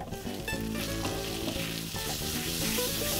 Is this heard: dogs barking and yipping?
no